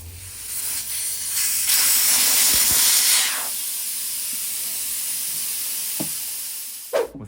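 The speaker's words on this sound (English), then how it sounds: "So the first thing I'm going to do is remove the valve stem core." Air rushes out of a car tire through the open valve stem once the valve core is removed. A strong, close hiss runs for about three seconds, then fades to a softer steady hiss, with a few small clicks near the end.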